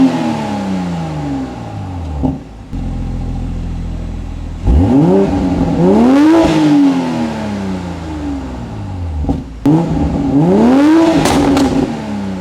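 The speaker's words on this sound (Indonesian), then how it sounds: "Jika Anda berkendara dengan mode sport, sport plus maupun individual, maka suara knalpotnya akan berubah" A 2020 BMW 840i Gran Coupe in sport mode revs hard through its exhaust, close and loud, with repeated rising and falling sweeps, a short steady idle, brief cuts and a final sharp climb.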